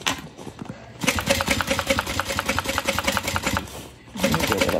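Sewing machine stitching through a bag, a rapid steady needle chatter running close and loud for several seconds, briefly easing before picking up again for a final burst.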